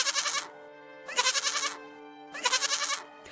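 A goat bleats three times in wavering, nasal calls, each around half a second to a second long, with clear pauses between them. The calls are close and prominent, and no voices are heard.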